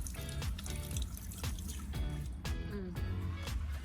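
Freshly picked vegetables being rinsed with water outdoors, with faint, close splashes and drips falling in a loose, repeating rhythm against quiet surroundings.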